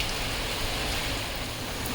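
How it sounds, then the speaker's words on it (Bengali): Steady rain falls continuously at a moderate, even level, a dense hiss of drops on outdoor surfaces with no voices present. "অবশেষে বৃষ্টি।"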